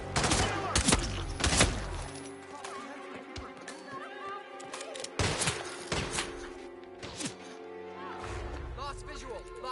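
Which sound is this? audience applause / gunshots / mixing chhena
gunshots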